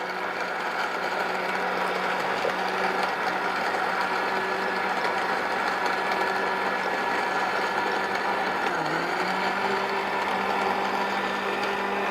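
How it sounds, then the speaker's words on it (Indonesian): A kitchen blender runs continuously at a steady, loud, close-up pitch as it purees strawberries with water until smooth, the motor drone unbroken throughout. "Blender sampai halus."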